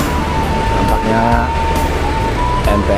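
Hino RK8 bus with Laksana bodywork pulling away from a terminal, a steady engine drone with tonal whine held loud and close throughout, voices talking over it.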